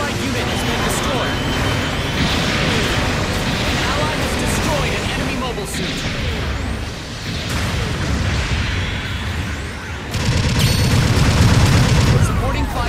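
Gundam Alex gatling gun fire in a mecha video game, a loud continuous rattling stream mixed with booming explosions, swelling and dipping over a dense battle din with voices heard through it.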